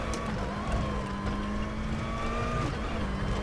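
A WTCC 2014 touring car at Macau in the RaceRoom racing game pulls hard in first gear, its engine a steady droning tone rising slowly as it accelerates, loud and close with no talk over it.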